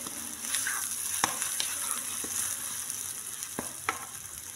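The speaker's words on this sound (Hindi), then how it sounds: "अब इसको थोड़ा सा हम भून लेंगे प्याज़ों को" Chopped onions frying in a pan for achari chicken give a steady close sizzle, broken by a few sharp clicks and scrapes as they are stirred.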